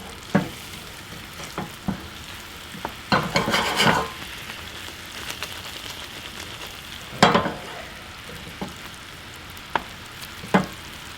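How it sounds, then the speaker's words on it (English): Pork belly pieces turned with a rubber spatula in a sticky Jack and Coke glaze in a non-stick pan, giving a steady sizzle punctuated by several soft scraping and tapping bursts, with no talking. "just give them a nice little flip inside our glaze"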